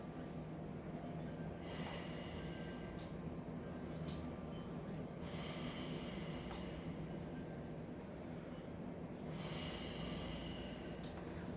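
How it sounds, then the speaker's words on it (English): Breath exhaled during a Pilates mat leg exercise, sounding as three soft, airy breaths spaced about four seconds apart, close to the microphone over a steady background hum. "And exhale, lower."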